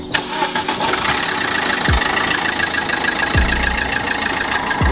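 A 1.3L turbo diesel in a five-speed manual, front-wheel-drive Suzuki Swift cranks and fires, then settles into a loud, rough, clattering idle, with a couple of brief revs or thumps. No one speaks.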